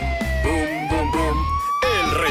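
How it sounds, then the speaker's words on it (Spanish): A cartoon ambulance siren wails in a slowly rising tone under a children's song, with bright singing and music over it for a couple of seconds. "La ambulancia ya llegó, run, run, run y es la mejor"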